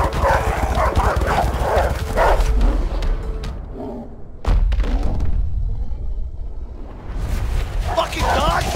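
Dogs bark and yip during a chase in the video game A Way Out, with heavy thuds and running action mixed in; game voices talk loudly over the scene throughout.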